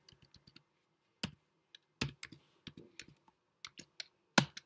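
HTML code is typed on a computer keyboard in quiet, irregular bursts of close, crisp key clicks separated by short pauses.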